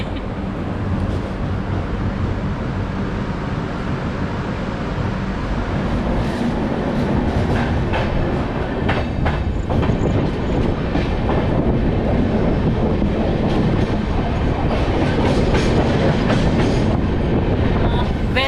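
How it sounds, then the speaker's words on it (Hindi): From inside a Rajdhani Express running out of Surat comes a steady loud rumble of the train in motion with rhythmic clicking of wheels over the rails. The sound fills the whole stretch, with a faint murmur of voices. "तो हमारी ये फास्टेस्ट ट्रेन अभी की नहीं, पहले की चल पड़ी है सूरत से"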